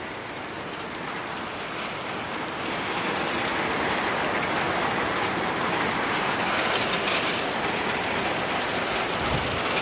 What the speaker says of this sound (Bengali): এই যে টিনের পরে বৃষ্টিগুলো পড়ছে